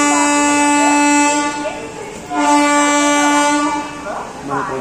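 Ratnachal SF Express, a 24-coach train on the Vijayawada–Visakhapatnam route, pulling into a stop: a loud sustained horn blast with rich harmonics, a short break, then a second long blast over a steady rumble of the moving train.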